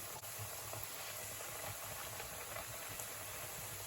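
Green plantain fries in hot oil with a steady, even sizzle, a dense continuous hiss with faint bubbling and no voices.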